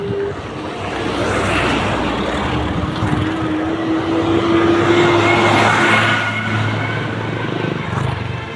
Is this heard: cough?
no